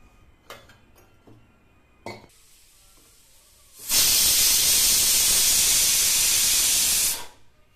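After a few faint clinks, a pressure cooker cooking plantain and dal vents steam in a loud, sustained whistle hiss lasting several seconds before cutting off.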